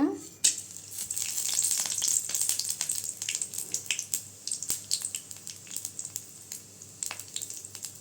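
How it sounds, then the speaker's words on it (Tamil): Cinnamon and cloves drop into hot oil for sundal kulambu, setting off a sharp burst of sizzling and crackling that settles into steady, close spattering with scattered pops. "எண்ணெய் சூடானது பட்டை கிராம்பெலாம் போட்டுக்கலாங்க"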